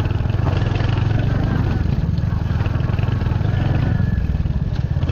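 A Royal Enfield motorcycle engine thumps steadily up close with a rapid, even beat, rattling along a rough off-road track for several seconds.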